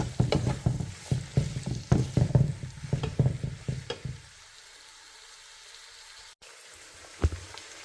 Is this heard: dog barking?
no